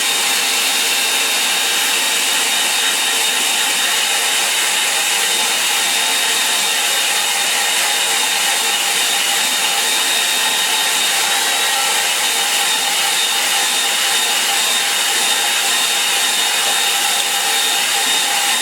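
Hair dryer blowing steadily across a watercolour painting, a continuous loud, close whooshing roar that holds unchanged throughout, with no talking.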